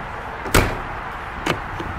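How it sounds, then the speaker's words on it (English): An RV entry door on a Coachman Catalina Legacy 323BHSDCK travel trailer shuts with a sharp, solid thud, followed about a second later by a second, softer latch knock. There is no talking. "Close your door."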